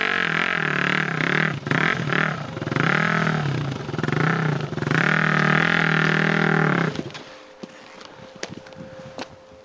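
Motorcycle engine revving hard on throttle in repeated rising and falling surges, loud and close, then cutting off to a quiet idle with clattering.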